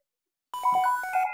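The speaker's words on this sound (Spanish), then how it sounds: "Espera, me está sonando el móvil." A mobile phone plays a bright melodic ringtone that starts abruptly after half a second of silence and rings on loudly and clearly, with no voices over it.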